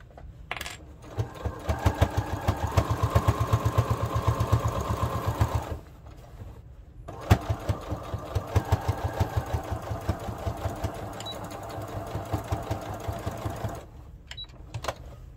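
A sewing machine stitches a tea towel seam in two long runs, a rapid, even mechanical chatter with brief pauses between bursts, close and clear.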